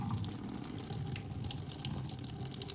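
Water from boiled yakisoba noodles pours steadily down a kitchen sink drain, a continuous close splashing rush with no voices.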